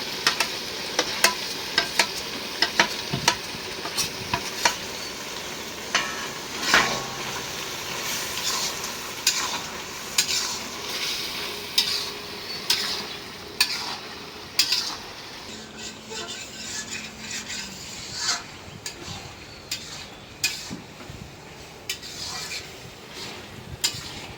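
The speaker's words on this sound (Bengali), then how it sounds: "এখন দিয়ে দিব ইলিশ মাছ" Hilsa fish cooking with taro greens in a pan, a steady close sizzle and frying hiss broken by repeated scraping stirs of a spatula against the pan, with no voices.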